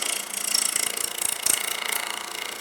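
A 3/8 bowl gouge cuts into a wooden bowl turning on a lathe, making a rough, pulsing scrape that swells with each pass. The sound is close and continuous, with no talking.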